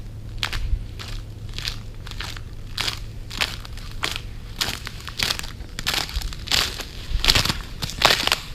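Footsteps crunching over ice on a walking trail in Myre Big Island State Park, Minnesota, a steady series of crisp, close crunches at a walking pace with no talking.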